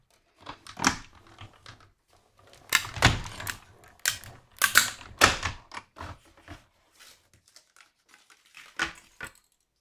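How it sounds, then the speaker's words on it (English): A metal cutting die from a die set pressed through cardstock in a die-cutting machine for a floating frame card, heard as a series of irregular clacks, cranking and crunching sounds, close and alone. "Here's our die from the die set. Let's line that up and cut out."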